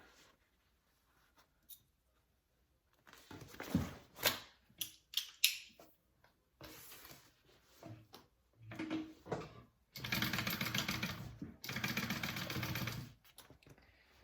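A sewing machine stitches a zipper seam onto a bag at a quarter-inch seam allowance, running in several bursts of varying length, with the longest near the end and short pauses between runs.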